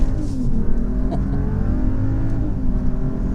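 Steady cabin roar of a 2020 Mercedes-Benz GLE SUV pulling hard in sport mode, engine hum and road noise sustained and fairly loud throughout.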